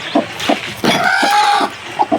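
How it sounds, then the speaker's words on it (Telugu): A free-range country hen clucking in a village yard, giving a few short close clucks with a longer drawn-out call in the middle and no talk over it. "ఇది ఒక్క కోడి గైస్"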